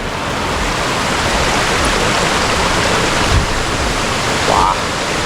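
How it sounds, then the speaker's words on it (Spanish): Steady rushing water fills the whole clip, a broad continuous roar of a waterfall stream close by at Chorreras de Balastar in Faraján, Spain, with no talking over it. "Cómo corre el agua, ¿eh?"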